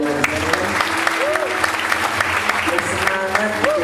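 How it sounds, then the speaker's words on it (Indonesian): Church congregation and guests at an anniversary celebration clap for the church committee, a sharp, dense round of applause with distinct hand claps up front, while voices and sung or spoken tones carry beneath. "Yuk jemaat-jemaat dan tamu-tamu juga beliau tepuk tangannya buat pengurus gereja"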